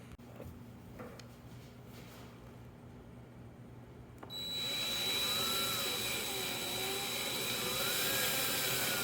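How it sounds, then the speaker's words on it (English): A drill bores a peg hole in a wooden board for a circle-cutting jig, starting after a few quiet seconds with light clicks, then a loud steady whine that holds to the end. "I'm going to drill this hole for that peg to sit in."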